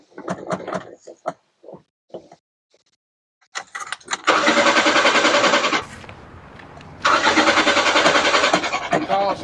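A Mazda B2000 pickup engine with a newly fitted Weber carburetor and no fuel yet, cranking loudly in two long bursts of rapid rhythmic starter churning separated by a short pause, after some brief clatter and a voice.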